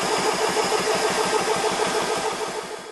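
A SMACO GRiP portable HPA compressor starts up and runs steadily, a close, loud mechanical drone with a fast even pulsing throb and a constant hiss above it, with no talk throughout.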